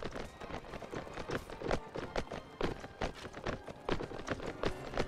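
Horse hooves clip-clop in a quick, steady running rhythm while riding in the medieval combat game Mount & Blade Warband, continuous and moderately close with no talk.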